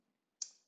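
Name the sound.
pressing the tab key on a computer keyboard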